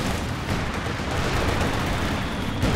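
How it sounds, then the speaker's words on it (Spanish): Rockets and gunfire crackle in a 4v4 Company of Heroes 2 battle with Wehrmacht forces: a dense, continuous barrage of shots and blasts rumbles without pause, loud and busy from start to finish. "Hay unos cohetes, metas."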